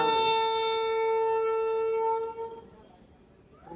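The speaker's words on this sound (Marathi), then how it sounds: "ही ट्रेन गेली का आपली लोकल ट्रेन" A long, steady local train horn blast sounds loudly as the train departs, then cuts off after a couple of seconds, leaving a low rumble.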